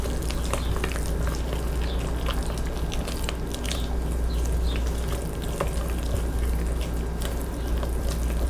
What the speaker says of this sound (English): what we're going to do is just stir it until the dry ingredients are moistened